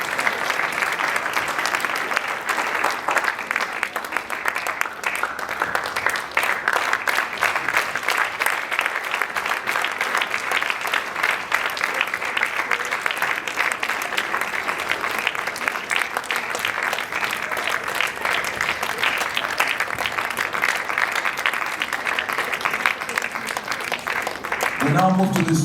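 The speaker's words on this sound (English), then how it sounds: "A round of applause as they leave the stage." Sustained, loud applause from a school audience honoring departing student captains at a leadership announcement ceremony, a dense steady clapping that continues for about twenty-five seconds.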